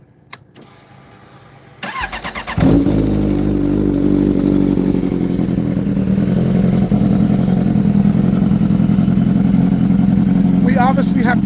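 A motorcycle that has sat unused for a while cranks briefly, then catches and settles into a loud, steady idle as it warms up.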